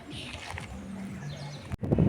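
Pigeons or doves give a low, steady coo amid faint chirps in a park with benches in Portugal, close by, with some background noise and a sharp knock near the end.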